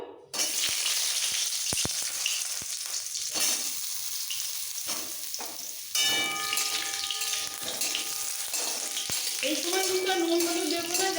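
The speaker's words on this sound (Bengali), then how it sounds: "আস্তে একটু তেলে হালকা ভেজে তুলে নেব" Boiled potatoes fry in a little mustard oil for vegetable palong khichuri, giving a steady close crackling sizzle with scattered clicks from stirring and a brief faint voice near the end.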